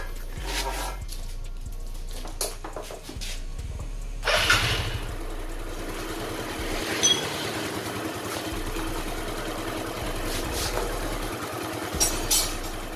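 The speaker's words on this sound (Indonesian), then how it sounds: "Di sini saya akan coba menghidupkan motor ini." A Yamaha Mio scooter engine starting after repair work on an oil leak at the magneto. Cranking catches into a steady, moderately loud idle with a few small revs, and no one speaks.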